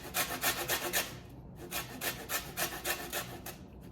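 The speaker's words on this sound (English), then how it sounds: "I use the side of my scraper to get the lemon zest." Lemon zest being scraped off with the side of a kitchen scraper, a close, rhythmic rasping rub in quick repeated strokes with a brief pause midway, no talking.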